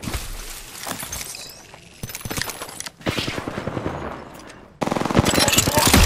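Rapid bursts of automatic gunfire from an enemy squad in a shooter video game, loud and close, with dense machine-gun rattles broken by brief pauses and a sharp, intense final volley.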